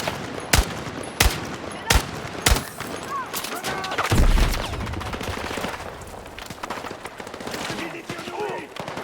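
In the video game Battlefield 6, a few sharp single gunshots ring out evenly spaced, then a heavier blast is followed by sustained distant gunfire and battle noise.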